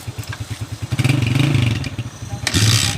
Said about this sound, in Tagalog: Ganda pa lang ng makina ni Kabro, napaka-smooth pa.